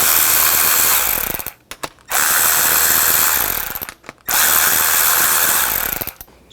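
A ratchet with a 7mm socket works seat switch plate bolts loose on a 2007 Chevy Silverado 1500 Classic, three bursts of close, loud, rapid clicking separated by short pauses.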